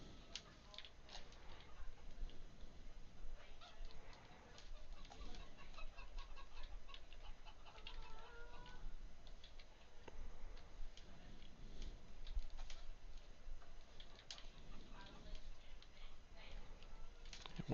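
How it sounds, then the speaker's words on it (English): Chickens in the Farming Simulator 15 video game cluck and chatter steadily over a constant ticking game soundscape, layered and continuous for the whole stretch. "One of these chickens is good at hiding eggs"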